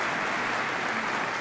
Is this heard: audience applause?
yes